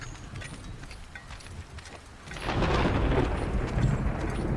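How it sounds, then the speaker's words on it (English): A thunderstorm in a video game's woodland wilderness near ruins: steady rain hisses while a deep thunder roll swells in halfway through and stays loud and rumbling to the end. "More video games need more thunderstorms."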